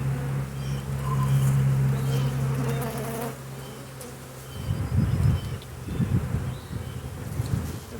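Honey bees buzz steadily around a beehive raised on stands, a dense insect drone close by that holds throughout with no talking.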